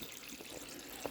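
Steady water runs from a tap with a constant hiss and gurgle, close and unbroken, ending in one small splash near the end.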